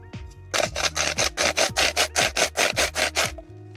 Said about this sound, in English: I take some 4mm pellets, and what I like to do is just crush it down.